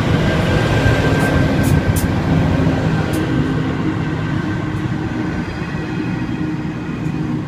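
Freight train hauled by three CEY locomotives rolling past at Cowan near Sydney, a loud continuous rumble of wheels and wagons with faint screeching, no voices heard.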